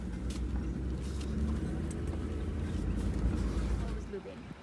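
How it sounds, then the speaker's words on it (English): Low engine rumble of a truck pulling away on a farm, steady and fairly close, with a person speaking over it. "Let's get in the truck and start heading back."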